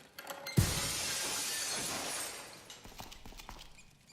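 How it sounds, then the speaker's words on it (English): Glass shatters with a sudden muffled crash through a seat cover. A broad, dull burst is followed by about two seconds of fading debris noise, then quiet. "let's cross our fingers that the seat cover absorbs the noise of the breaking glass"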